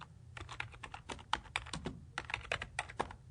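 Quick typing on a computer keyboard, a close, quiet run of irregular key clicks without pause and no voices.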